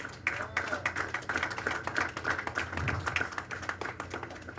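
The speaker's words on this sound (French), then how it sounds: "battons un applaudissement pour eux parce qu'ils méritent ça" A crowd claps in a dense, steady burst of applause lasting several seconds, fairly close and lively.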